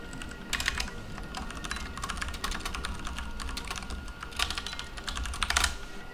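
Rapid typing on a computer keyboard, close and steady, in dense clattering bursts with short pauses and no voices.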